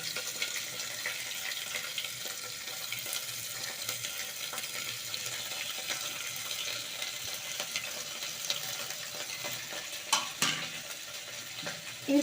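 Bay leaf, cinnamon, cloves and chopped onion fry in a pan, making a soft, steady sizzle throughout, with a few brief clinks of stirring near the end.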